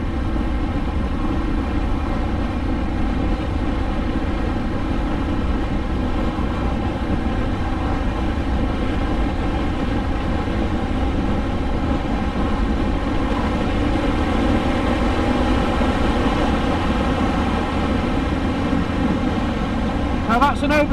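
Ducati Monster R motorcycle ridden on a winter road and overtaking, a continuous loud engine drone mixed with wind rush at a steady level, with no clear rise or fall.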